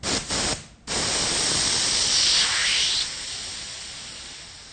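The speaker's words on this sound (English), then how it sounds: "So, what we do, we let the remaining air out." Air hisses steadily out of a bicycle inner tube valve, a close, loud spray-like rush with two brief interruptions at the start before settling into a continuous hiss that gradually softens.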